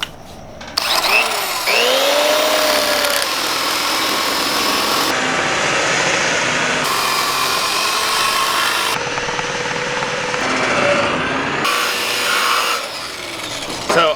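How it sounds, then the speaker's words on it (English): A grinder fitted with a surface conditioning drum strips the finish from an Indian motorcycle fuel tank. The rough, abrasive whine runs loud and close for the whole stretch, its pitch dipping and rising as the tool bites and eases, with no talk. "I just got this SCT tool, surface conditioning tool."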